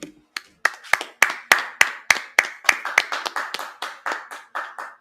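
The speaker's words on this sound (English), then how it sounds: "Clap it up." A congregation claps in unison at a Sabbath service, sharp rhythmic claps repeating steadily and loudly with no talking over them.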